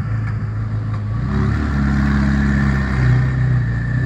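A McLaren supercar's engine revs through its exhaust, a loud, steady rising drone with shifting tones building over a few seconds, close by.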